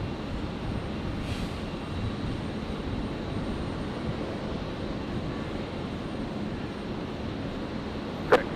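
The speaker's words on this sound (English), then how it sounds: "Here we go, Qantas 626 73 arriving from Melbourne." A Qantas airliner arriving from Melbourne at Brisbane International Airport gives a steady, broad engine roar that holds evenly throughout, with a brief sharp click near the end.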